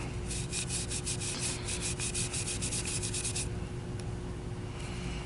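Steel wool rubs briskly against the metal contacts of a Miele S344 canister vacuum power head, a fast rhythmic scratchy scrubbing for about three seconds, then quieter, with a steady low hum underneath.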